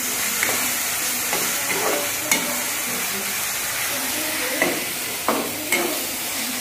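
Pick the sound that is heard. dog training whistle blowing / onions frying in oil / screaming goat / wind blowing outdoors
onions frying in oil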